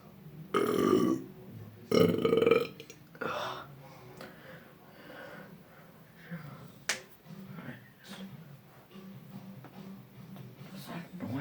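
A person burps repeatedly, with two loud, drawn-out belches near the start followed by softer burps and breathy sounds, close to the microphone.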